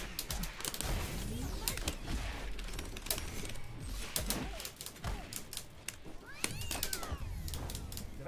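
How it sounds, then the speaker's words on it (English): A cat meows amid busy video game action, a few short mewing calls poking through sharp rapid clicks, bursts and gunfire-like cracks. "Did I just hear the cat?"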